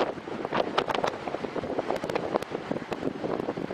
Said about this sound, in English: The wind is really gusting now.